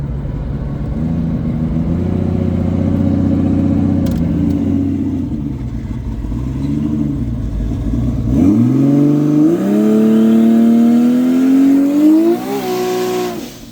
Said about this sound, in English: even the burnout pulls you into your seat